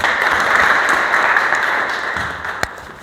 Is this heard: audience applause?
yes